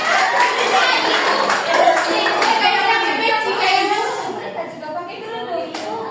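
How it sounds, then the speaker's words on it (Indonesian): A group claps for a child during a school civics role-play, a short patter of hand claps mixed in with ongoing talk and a voice. "Tepuk tangan untuk adik."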